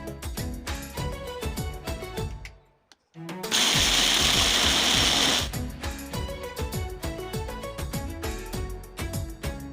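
A mixer grinder whirs loudly for about two seconds, grinding onion, ginger, dry coconut, garlic and green chillies into a smooth paste, set between stretches of background music.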